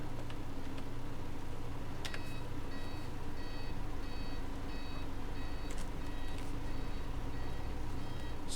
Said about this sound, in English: If you can hear that beeping, I'm pretty sure that's coming from the outside.